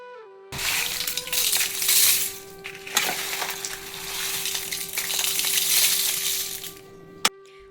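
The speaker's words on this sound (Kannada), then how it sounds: "ಗ್ರೈಂಡ್ ಮಾಡಬೇಕು." A mixer grinder whirs loudly while grinding huli pudi spice powder of roasted spices and curry leaves, a steady harsh roar of several seconds that starts abruptly and cuts off near the end.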